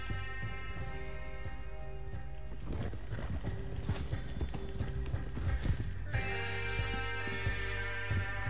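Horse hooves clip-clop steadily in Red Dead Redemption 2, a rhythmic clatter of a ridden horse under game music and ambience, moderately loud and continuous throughout.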